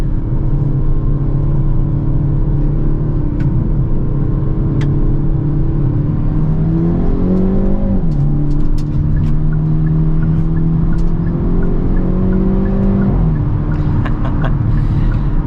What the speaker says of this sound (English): The exhaust on this Elantra N is insane, very loud, and it just sounds amazing.